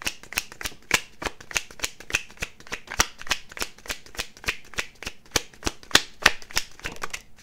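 A deck of playing cards being shuffled, a fast steady train of crisp riffling snaps that runs close and fairly loud for the whole stretch, with no voices.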